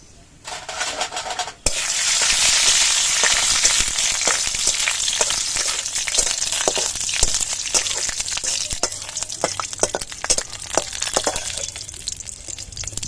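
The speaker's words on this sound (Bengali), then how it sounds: "কিছু কাজু বাদাম ভেজে তুলে রাখবো।" Cashew nuts fry in mustard oil with continuous sizzling, scattered crackles and light clinks from stirring, close and steady throughout; no talking.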